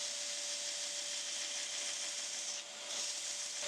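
A 2x72 belt grinder profiling cast epoxy knife handle scales gives a loud, continuous abrasive hiss with a steady motor whine and a brief dip as the pressure changes, heard close with no talking.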